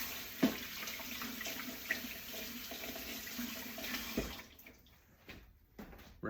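Tap water runs steadily into a sink while eggs are rinsed, a close, continuous splashing stream with a few knocks, then the flow cuts off, leaving faint drips.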